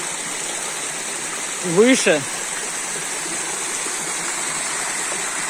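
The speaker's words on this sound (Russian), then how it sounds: "трехкаскадный водопад реки Бага" A mountain stream on the Baga River above the Three-Cascade Waterfall in the Baydar Valley rushes in a steady, close, full-bodied hiss, with one short spoken word briefly over it.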